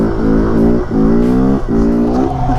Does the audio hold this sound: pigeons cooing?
no